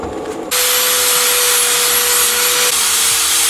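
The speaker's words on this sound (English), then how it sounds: "this is what we look like after first pass with the angle grinder and belt sander" An angle grinder or belt sander works stainless steel on a TIG-welded card case, starting abruptly and then holding a loud, close, steady abrasive roar with no voices.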